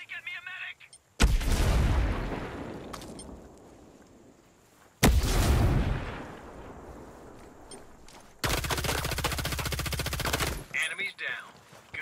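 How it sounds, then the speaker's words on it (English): A video game battle with a grenade and guns: a loud blast with a long decaying rumble, a second heavy explosion, then a rapid burst of automatic fire, with brief voice fragments at the edges. "Grenade."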